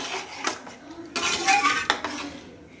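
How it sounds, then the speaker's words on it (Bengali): Boiled jackfruit seeds mixed with hot water in a pot for a lentil dish: repeated clanking and scraping of a metal spoon against the pot, with a louder burst of stirring in the middle, close and alone. "এখন এটাকে মিশিয়ে দেবো ভালো করে।"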